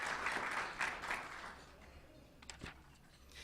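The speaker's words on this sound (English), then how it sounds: "how about a big round of applause for all the staff members that work in the State House and in the legislature as well" A breakfast audience claps for State House and legislature staff at a policy leadership event, a moderate burst of applause that fades after about two seconds, leaving only faint scattered claps and a quiet room.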